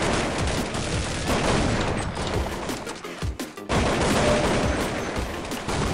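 Weapons in the video game Counter-Strike 1.6 fire in rapid, overlapping bursts, loud and continuous, with a brief thinning of the shots midway before heavy firing resumes.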